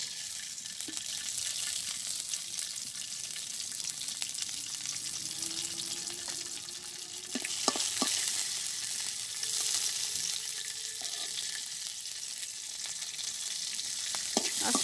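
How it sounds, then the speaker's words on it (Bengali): Green chilies frying gently in a little oil, a steady soft sizzle and crackle running throughout with a few brief clinks of a stirring utensil. "আস্তে আস্তে মরিচ কটা ভেজে রাখি"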